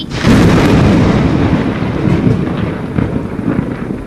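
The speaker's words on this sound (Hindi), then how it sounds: "मम्मा, क्या पहले भी कभी इतनी तेज बारिश हुई है?" Loud, heavy rain pours down steadily with deep rolling thunder rumbling through it, close and continuous.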